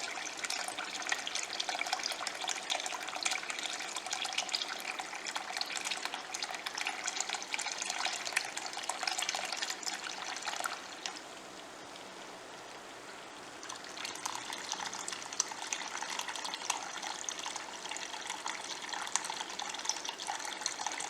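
Steady running water pours into a container while wax cappings are processed, a continuous close hiss and splash that dips briefly midway before resuming at full strength, with no talking.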